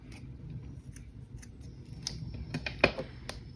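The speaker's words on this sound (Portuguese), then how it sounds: "Posso puxar esse azul clarinho, cortar ele pequeno." Scissors snipping light blue yarn for amigurumi, a few quiet, close, crisp cuts with one sharper snip near the end, alone against a soft background.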